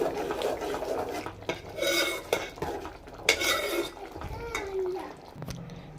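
Prawn curry cooking in a pan, with metal utensil scrapes and clinks against the pan in bursts over a low bubbling background, close by, with faint voices now and then.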